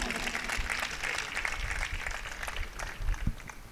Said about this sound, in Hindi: एक बार इनके लिए जोरदार तालियां बजाइए।